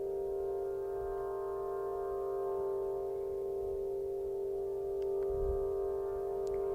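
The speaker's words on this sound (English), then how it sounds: "what you're hearing is an Aeolian harp, wind harp, placed in the center of Stonehenge on a summer solstice" Wind playing an Aeolian harp set in the center of Stonehenge on a summer solstice, a steady shimmering drone of stacked tones that holds evenly throughout at low level, with soft wind rumble underneath and no voices.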